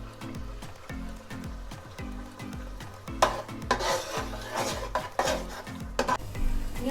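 Yogurt poured into onions and ginger-garlic frying in a pan for white chicken korma sizzles under steady stirring, with repeated scraping and clinks of a utensil against the cookware, louder bursts of sizzle midway.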